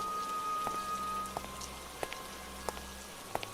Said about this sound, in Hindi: और ये बारिश, इस बारिश में तो जाने खाली है मेरी